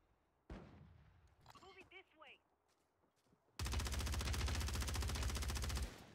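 Sustained rapid automatic gunfire from a first-person shooter video game, loud and continuous for about two and a half seconds, after a stretch of quieter game sounds and voices.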